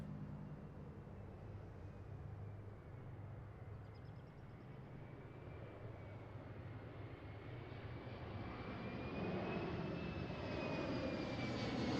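Airliner on arrival approach to land at Seattle airport, a steady broad engine roar with a faint whine that swells gradually as the aircraft draws nearer, heard alone with no talk.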